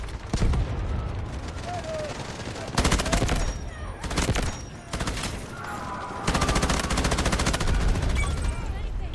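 Bursts of M249 machine gun fire in the shooter game Delta Force, loud rapid strings of shots in several long volleys separated by short pauses, with excited voices talking over the gunfire.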